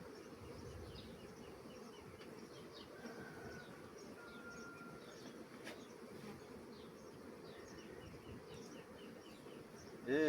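Honeybees buzz steadily inside a queen isolator on a hive, a continuous close, low insect drone with no talk over it.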